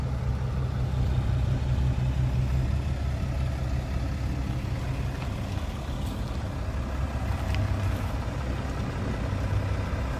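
Ram pickup truck engine idling nearby, a steady low rumble with a continuous throb that holds evenly throughout, with no voices.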